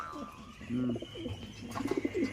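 Soft cooing calls from a pet pigeon or dove kept in a loft, a few low rounded phrases close by with faint background noise, alone without talk.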